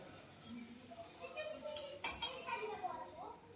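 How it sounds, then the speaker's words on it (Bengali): Pots, pans and cutlery clink and clatter during home cooking in a kitchen, with faint metallic knocks and scrapes heard under people talking nearby. "এখন জোর কদমে রান্না বান্না চলছে।"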